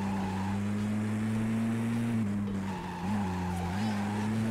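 Race cars in the video game Driver: Parallel Lines drone with a steady engine tone while tires squeal and skid almost continuously, the pitch dipping briefly before picking up again.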